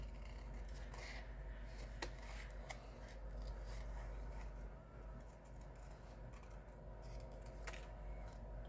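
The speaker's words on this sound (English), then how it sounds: "So let's cut this up. Scissors." Scissors snip through a paper card panel in a papercraft session, with a few sharp cutting clicks over a steady low background hum.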